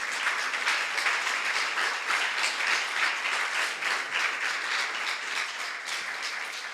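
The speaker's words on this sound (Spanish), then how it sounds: "¿Por qué no le dan un aplauso al Señor?" A church congregation applauding the Lord during a sermon, with steady, sustained clapping from a large crowd that fades slightly toward the end.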